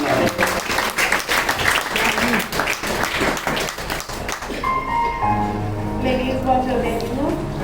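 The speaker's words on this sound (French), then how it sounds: "On applaudit, c'est l'Esprit de Dieu qui a fait" Church congregation applauding in an evangelical Baptist service, rhythmic clapping for about four seconds that fades out as a voice and music take over.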